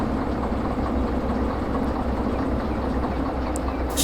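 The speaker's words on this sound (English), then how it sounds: "Just let the train roll." A train rolling along the track in the railway simulator Derail Valley during slow shunting, a steady low rumble of wheels and running gear, continuous and close, with a brief faint squeak near the end.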